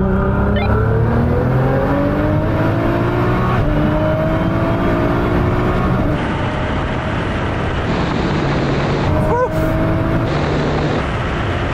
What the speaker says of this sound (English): Right, Sam, what we're going to do this time is 50 mile an hour third gear roll on.